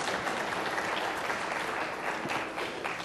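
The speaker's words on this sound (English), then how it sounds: "can we give them a round of applause?" Steady, moderately quiet applause from a conference audience at a brands and innovation talk, greeting a delegation that traveled from Japan; continuous crowd clapping throughout with no speech.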